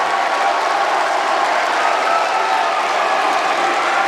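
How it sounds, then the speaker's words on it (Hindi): A large hall audience applauds loudly and steadily at a gathering, a dense unbroken wash of clapping that holds at full strength from start to finish. "पूरा सदन एक बार हाथ खड़े करके जोरदार सेलिब्रेट करें, जोरदार तालियां बजाएं"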